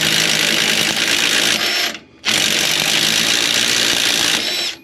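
A power tool whirs steadily at close range as it backs out a stuck fastener on a beat-up Can-Am Commander UTV. It cuts off briefly, then starts again and runs on.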